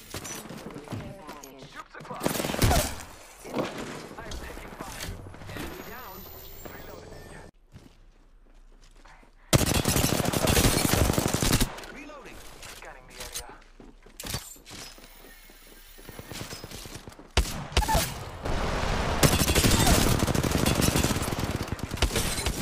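Gunfire in an Apex Legends arena match, bursts of rapid shots and clatter in several loud stretches separated by quieter gaps, with footsteps and players talking over it.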